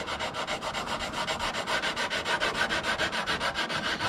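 A surface is sanded by hand to take out scratches, giving a steady, rhythmic back-and-forth rasping of even strokes, close and continuous throughout with no voices.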